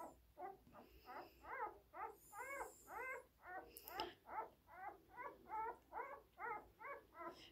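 A newborn basset hound puppy whines and squeals for its mother in a steady series of about seventeen rising cries, close and loud, with a brief higher squeak partway through.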